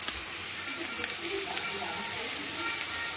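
Vegetables frying in hot oil for upma give a steady, moderate sizzle with a few brief crackles and spatters throughout, no voices over it.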